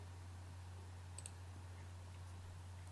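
A computer mouse clicks faintly a couple of times over a quiet background with a steady low electrical hum.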